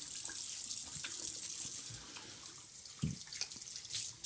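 Tap water runs steadily from a faucet into a sink while soap is rinsed off a face, a continuous close hiss with small splashes and drips, no talking.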